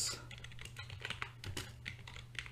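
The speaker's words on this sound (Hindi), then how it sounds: "इस प्रकार से मैंने यहाँ पर प्रोम टाइप कर दिया है" Rapid clicking of a computer keyboard as a prompt is typed, with close, irregular keystrokes in quick bursts and no talking.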